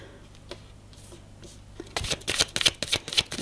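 Tarot cards are shuffled and flipped over during a professional forecast reading, starting with faint scattered ticks, then a dense run of crisp slaps and riffling card sounds close up, with no voices.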